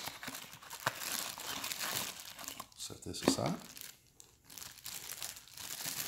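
Plastic packaging bag from a Westinghouse WPro8500 generator box crinkles and rustles steadily while being handled up close, with someone speaking briefly over it.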